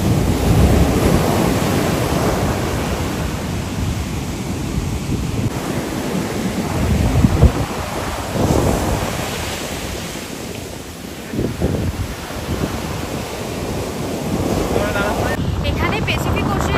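Pacific Ocean waves washing onto a California shore, a loud continuous roar of surf with heavy wind buffeting the microphone and surges of breaking water.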